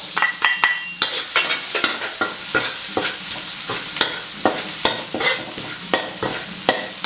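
Garlic and curry paste stir-fry in a pan for Thai northern chilli paste, a steady close sizzle broken by frequent sharp scrapes and clacks of a spatula against the pan in an uneven rhythm.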